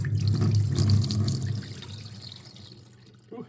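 Dirty mop water from the tank of an Ecovacs Deebot X9 Pro Omni robot vacuum is poured out, a close splashing gush that gradually thins to a trickle, with no talk.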